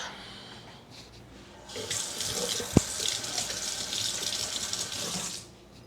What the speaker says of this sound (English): I'm gonna go get a new fork. No, you know what? I'm just gonna wash this one.